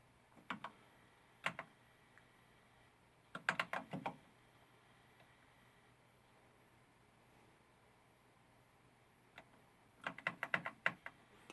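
Keys on a Commodore 64 Ultimate keyboard clack in short bursts of quick presses, with long quiet gaps between the clusters, close and fairly soft.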